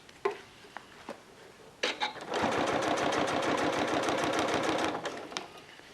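Sewing machine fitted with an adjustable bias binding foot, stitching bias binding onto fabric for a waterproof bib. A few handling clicks come first, then a close, loud, rapid rhythmic stitching run of about three seconds that stops abruptly.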